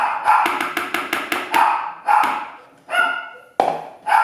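A male dog barks in a quick volley of sharp, loud barks close by, then slows into several spaced single barks, with no talking.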